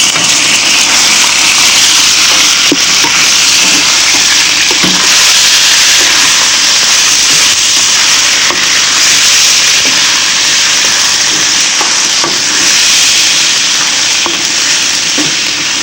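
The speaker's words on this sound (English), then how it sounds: "The diced meat goes in to the frying pan full of oil." Diced beef sizzles loudly in a frying pan full of hot oil, a dense, continuous crackle and hiss heard up close with occasional stirring knocks.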